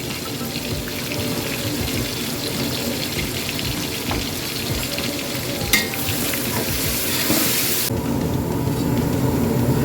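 Onions frying in a pan for chicken curry give a steady, loud sizzle with continuous crackle and occasional stirring scrapes throughout.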